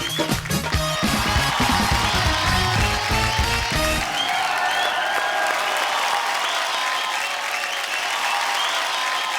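A studio audience at the Kapil Sharma Show applauds loudly to welcome a guest onto the stage, starting over the tail of a music sting and then continuing as a full, steady roar of clapping.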